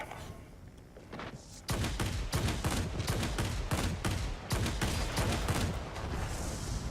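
Cannons of a J7W1 fighter in World of Warplanes fire in rapid, sustained bursts, a dense loud rattle of shots with brief pauses between volleys and a quieter engine drone at the start.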